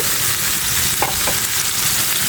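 Pabda fish sizzling as it fries in hot oil, a steady close crackle with no talk and a couple of brief stirring scrapes partway through.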